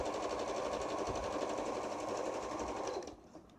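An Usha Janome Dream Maker 120 sewing machine runs steadily at medium speed, a loud continuous whirring rattle that stops abruptly near the end, with no talking.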